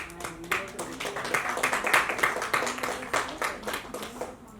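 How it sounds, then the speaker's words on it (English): Audience at a launch event clapping in a sustained round of applause, with distinct hand claps over a low murmur of background voices and some musical tones. "I would like to give a big hand of applause for my dear soul sister, Dr. Pooja Verma."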